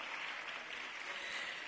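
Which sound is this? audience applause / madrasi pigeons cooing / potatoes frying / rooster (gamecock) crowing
audience applause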